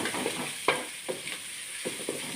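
Onion and capsicum sautéing in a pan for chicken noodles, a steady low sizzle with intermittent scraping stir sounds from a spatula, close up and with no voices.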